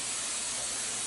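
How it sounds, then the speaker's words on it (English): A short, steady hiss of hairspray comes from an aerosol can aimed at a styled wig, one continuous burst of spray at close range with no voices. "So next, I'm going to use my hairspray and steady this."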